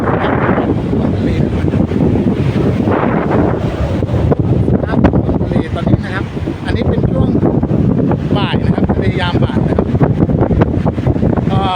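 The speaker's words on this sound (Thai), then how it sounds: "คลื่นค่อนข้างจะแรงแล้วก็จะมีลมแรงนะครับ" Strong monsoon wind and rough waves on the sea at Pattani roar continuously, with heavy wind buffeting the microphone while someone talks over it.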